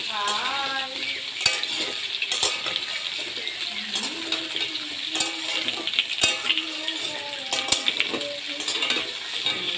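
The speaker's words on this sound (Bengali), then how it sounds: "আলু আর টমেটো একসঙ্গে দিয়ে দিয়েছে। দিয়ে আর ভালো করে তেলের সঙ্গে ভেজে নিচ্ছে।" Potatoes and tomatoes fry together in oil for a soybean curry, with a continuous bright sizzle, intermittent metallic clinks and scrapes, and wavering tonal sounds in the background.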